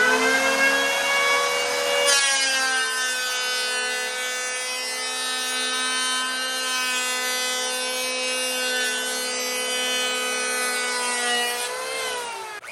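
Wen 6 amp electric hand planer cutting a wood board, a loud steady motor whine with a continuous cutting hiss that runs close and alone for about ten seconds before winding down.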